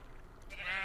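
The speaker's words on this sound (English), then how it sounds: "I'm gonna kill the sheep so we can make a bed." A short, faint bleat from a sheep in the video game Minecraft, a single nasal cry rising near the end of the brief moment over low background noise.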